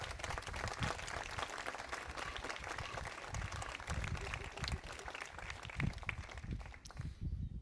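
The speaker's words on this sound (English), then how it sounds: "Let's give one more round of applause." Applause from the audience at an eighth-grade recognition ceremony at Hillbrook, a broad, sustained wash of many hands clapping, fairly loud and continuous, with a voice briefly present.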